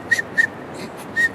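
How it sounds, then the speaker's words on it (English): A person whistling in a broken, choppy pattern, with short separate bursts and gaps between them, close by and alone. "your whistle gets broken up and becomes stroboscopic"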